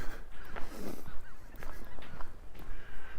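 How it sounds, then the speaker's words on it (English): Geese honking while flying overhead above a snowy lakeside in Regina in April, a few scattered calls spread across a few seconds, faint and distant over steady outdoor background noise. "Geese up there flying"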